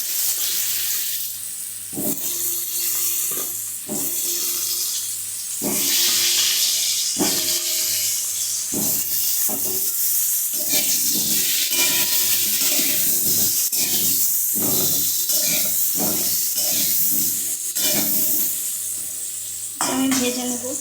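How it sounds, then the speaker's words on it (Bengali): Potatoes sizzle loudly in a pan of mustard oil and turmeric, a continuous hissing fry punctuated by repeated scrapes and clinks of a spatula stirring close by. "আর এইদিকে আমি আলুগুলো ভেজে নিচ্ছি ভালো করে, লাল লাল করে"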